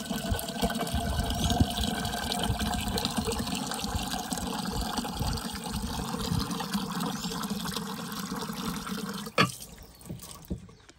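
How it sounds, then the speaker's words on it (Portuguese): Water pours into a small kettle outdoors at a countryside farm, a continuous splashing, gurgling fill at close range that stops abruptly near the end, leaving a few faint drips. "Enchendo a chaleirinha aqui, ó."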